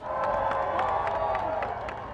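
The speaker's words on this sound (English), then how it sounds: "as the new king arrived, there was a time to cheer" A large crowd cheers and shouts as the new king arrives, a steady, loud roar of voices with scattered clapping and whistles.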